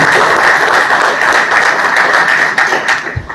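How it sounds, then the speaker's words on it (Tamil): A loud burst of audience applause at a Republic Day celebration in Kanyakumari, thick continuous clapping that begins to thin out near the end. "மீண்டும் ஒரு கைத்தட்டலை தெரிவிக்க"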